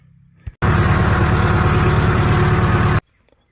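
A farm tractor engine starts abruptly and runs at a steady, loud idle for about two and a half seconds before cutting off, heard close up with no talk.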